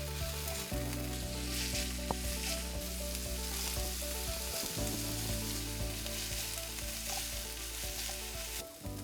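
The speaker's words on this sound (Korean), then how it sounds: "간단히 만들기 위해 재료들을 볶아서 시판 라구 소스를 넣고 조금 더 볶아줬다" Chopped ingredients for a ragu sauce stir-fry in a pan with a loud, continuous sizzle, steady throughout with occasional scrapes of stirring and no voices.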